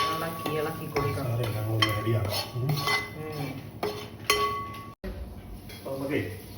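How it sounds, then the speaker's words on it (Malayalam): A spoon or spatula stirring masala in a metal pan, scraping and clinking against the sides in irregular strokes, close and fairly loud, with a brief cut near the end. "ഇളക്കി കൊടുക്കാം."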